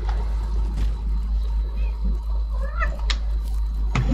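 A house cat meows a few times, fairly faint and drawn out, over a loud constant low hum of background noise, with no talking.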